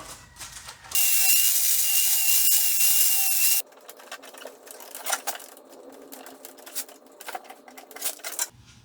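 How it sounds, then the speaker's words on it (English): A power grinder smooths the sharp, rough edges of a DIY metal roof rack for a 3rd-gen Toyota 4Runner, giving a loud, bright, high whine for about three seconds, followed by quieter scattered knocks and handling noises. "So you really don't need to grind it if you don't want to, but I'm gonna do it anyway just because."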